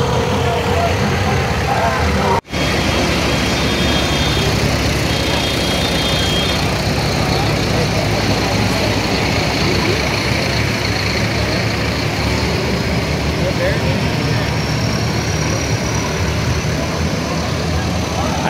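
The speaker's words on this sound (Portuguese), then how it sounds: "tá chegando os tratoristas aqui na cidade de São Sebastião do Rio Verde" Tractors roll into São Sebastião do Rio Verde during a tractor parade, their engines forming a loud, continuous rumble with a brief dropout early on and faint voices in the background.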